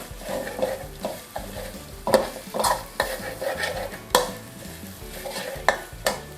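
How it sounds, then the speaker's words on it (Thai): Shrimp paste and garlic being stir-fried in a pan, with a soft sizzle beneath repeated close scraping strokes of a spatula in an uneven rhythm, without any voices. "ผัดให้หอมค่ะ"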